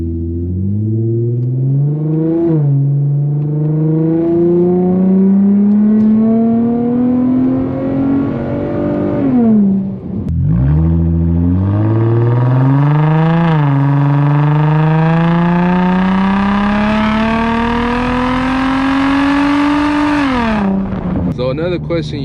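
An Infiniti G35 with a Vibrant resonator and muffler delete runs loud on the road, its raspy exhaust climbing through two long pulls, dropping briefly at a shift, then revving up again before lifting off.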